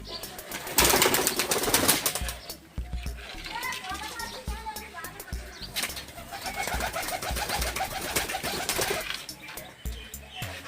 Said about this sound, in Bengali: অলরেডি আমাদের তিনটি কবুতর লেডিং হয়ে গেছে